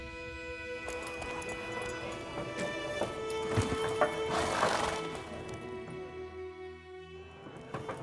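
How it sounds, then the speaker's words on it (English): In The Witcher video game, a horse's hooves clop along while it neighs, with game music droning underneath and a brief crash in the middle. "Run, Roach"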